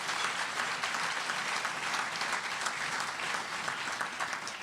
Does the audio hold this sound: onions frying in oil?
no